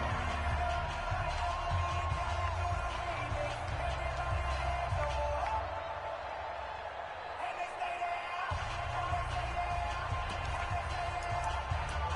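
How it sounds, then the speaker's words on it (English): Crowd noise from a football video game swells through a stadium ahead of a big third down, a steady broad roar with cheering that stays loud and continuous throughout, dipping briefly near the middle before surging again. "The crowd getting into it as we come up on a big 3rd down."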